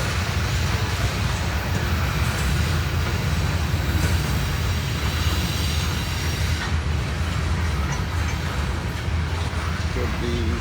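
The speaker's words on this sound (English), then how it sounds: "Noisy train." CSX freight train rumbling past at close range, a loud continuous roar with steady wheel and rail clatter throughout.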